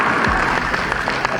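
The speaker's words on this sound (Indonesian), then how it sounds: "Kita berikan tepuk tangan buat Anda Bapak Ibu." Brief burst of audience applause at an Indonesian financial investment seminar, moderately loud clapping under a low hum of the hall.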